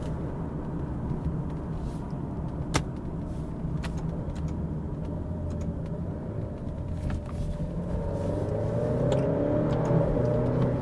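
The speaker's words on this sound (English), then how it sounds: "Yeah, the shifts are pretty quick." Alfa Romeo Giulia heard from inside while accelerating, its engine whirring steadily and building in loudness toward the end, with brief clicks that may be quick gear shifts.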